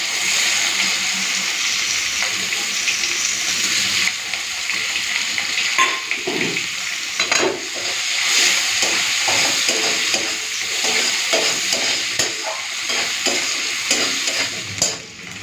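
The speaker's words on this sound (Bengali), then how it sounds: "পেঁয়াজটা লাল করে ভেজে নিয়েছি," Chopped onions sizzle in hot oil over tempered spices as they are stirred, a steady loud frying hiss that turns into rhythmic spatula scrapes and clatters during the second half.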